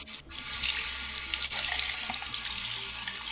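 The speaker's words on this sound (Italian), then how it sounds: "Bello il rumore dell'acqua che scorre, eh? È proprio molto realistico." A steady stream of running water, like a tap filling a sink, plays as a sound effect during a tabletop roleplaying game session, continuous and fairly close.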